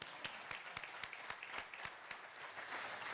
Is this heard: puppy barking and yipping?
no